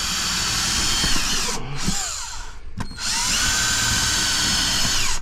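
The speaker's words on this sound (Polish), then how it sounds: "Trzeba nawiercić, żeby nie pękały deski." A cordless drill whirs loudly into wood, running in sustained bursts with two short pauses as the bit spins down and restarts.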